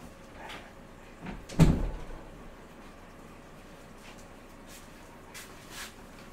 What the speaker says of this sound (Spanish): voy a abrir la puerta a la perra porque está venga a llorar